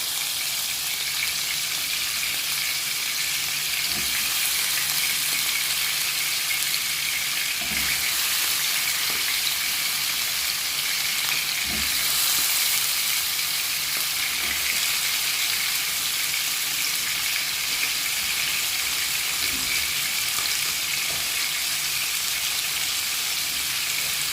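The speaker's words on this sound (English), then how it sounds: "So meanwhile the fish is going, I'm going to add the potato in, let it catch some color." Cod fish and potatoes frying in a pan, a steady broad sizzle and hiss running evenly throughout, close and moderately loud, with occasional soft knocks and stirring sounds and no talk.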